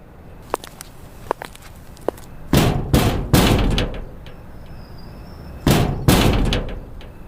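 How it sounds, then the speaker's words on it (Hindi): Knocking on an iron rooftop door, loud metallic thuds in two clusters, a run of three bangs followed by a pair later, with a few faint taps before them. "2 बार दरवाजा बजाया"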